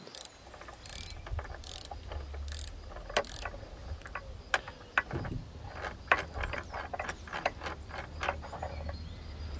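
A stem nut being worked loose on a Ninebot Segway scooter, heard as close, rapid ratcheting clicks in irregular bursts over a low background hum, with no one speaking.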